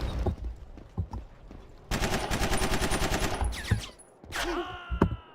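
Rapid bursts of automatic machine gun fire ring out in the Vietnam War shooter Battlefield Vietnam, a dense rattling volley up close followed by shorter sharp firing and whooshing effects, with no talking.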